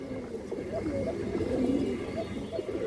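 A female pigeon coos in soft, low repeated notes close by, mixed with a murmur of room noise and a voice in the background.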